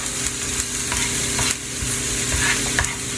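Vegetables frying hard in a pan for a farmer's omelette, a loud steady sizzle with crackling pops and occasional scraping stirs, close up with no talking.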